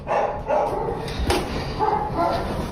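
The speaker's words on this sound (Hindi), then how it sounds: "कुत्ते भौंक रहे इनके हैं भाई" Pet dogs inside a family home bark in short repeated bursts at close range, mixed with background voices and household noise.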